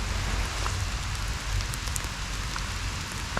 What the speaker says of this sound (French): il y a vraiment de la grêle qui tombe